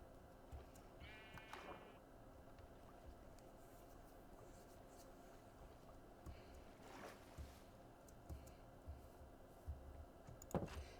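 A sheep bleats once in an island survival video game, a short close call near the start, over a steady ambient game bed with faint water-like hiss and scattered small clicks and taps.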